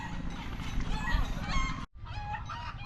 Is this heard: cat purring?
no